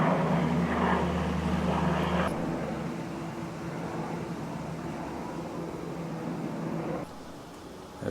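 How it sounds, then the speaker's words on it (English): An aircraft passes overhead along the Pennine Way near Haltwhistle on the Hadrian's Wall walk, a loud, continuous broadband roar that eases slightly after a couple of seconds and stays steady outdoors. "There's aircraft flying over all the time."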